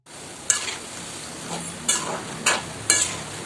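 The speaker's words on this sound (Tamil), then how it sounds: "இத அடிக்கடி கரண்டி வச்சு கிளறி விட்டுக்கலாம்." Shakkar para maida biscuits frying in hot oil, a soft bubbling sizzle broken by four distinct ladle scrapes against the pan.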